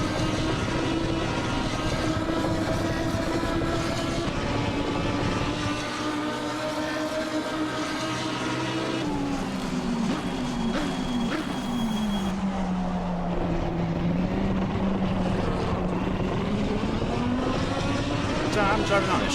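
A car engine drones loudly in a racing game while driving on a flat tire, its pitch sliding up and down with a rough, wobbling hum as the vehicle drives on.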